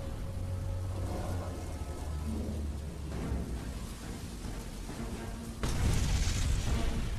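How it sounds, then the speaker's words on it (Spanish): A U-boat torpedo strikes an oil tanker off Manhattan at night, a deep continuous rumbling boom with a sharper surge of blast near the end, loud and heavy, with no voices. "Menos de un minuto después, la explosión ilumina la noche provocando enormes llamaradas."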